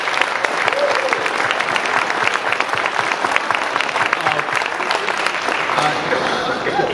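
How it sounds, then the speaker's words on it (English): A large audience at a US Senate GOP primary debate in Iowa breaks into sustained, steady applause, dense clapping filling the room at an even level for several seconds. "let's give Fred Grunder a round of applause for putting this event together tonight."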